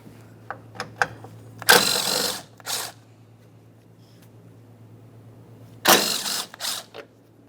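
A ratchet on 5.5mm Allen head mounting bolts holding a panel on a 2012-2015 Honda Civic 1.8L I4, with a few soft clicks, then two separate bursts of fast ratcheting, close and loud, with a quiet pause between.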